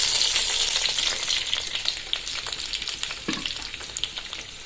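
Chopped onions, tomatoes and green chilies hit hot oil in a large wok, a loud crackling sizzle that slowly eases, with scattered pops and a stirring scrape.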